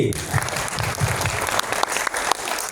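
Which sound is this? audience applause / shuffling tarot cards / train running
audience applause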